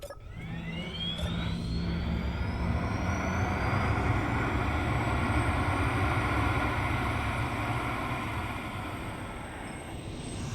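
Loud, steady engine roar with a rising whine, powerful sustained spaceship engine thrust in the game Space Engineers, continuous throughout with no talking.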